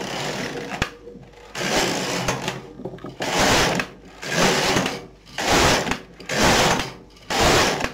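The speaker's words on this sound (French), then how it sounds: "on tricote des rangs verts sur la base ici du jersey endroit" A knitting machine knits green rows of stockinette on a cardigan, its carriage swept back and forth in repeated loud whooshing passes with brief gaps between each row.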